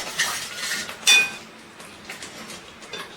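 A spoon stirs salted gravy in a metal pot, giving close scraping and a couple of bright metallic clinks against the rim, moderately loud and free of talk.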